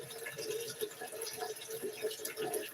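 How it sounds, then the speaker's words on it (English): A kitchen sink tap runs steadily, water splashing and filling the basin in a continuous close hiss with no break. "I got my sink going with the water"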